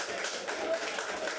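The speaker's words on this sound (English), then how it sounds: "we have to give a good round of applause for them" Applause for the fighters after a round of a kickboxing bout at a fighting series event, soft, rapid clapping and tapping in a noisy hall with voices in the background.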